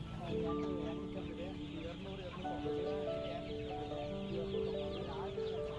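Country chickens cluck and squawk in a busy crowd, layered over steady background chatter and bustle of the Friday market in Pallavaram, Chennai.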